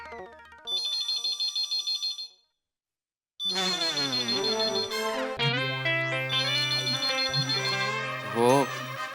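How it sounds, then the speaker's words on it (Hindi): An electronic phone ringtone chimes in repeated melodic bursts, pauses briefly, then resumes louder with a fuller tune, ringing on unanswered. "फोन उठाऊं कि नहीं उठाऊं?"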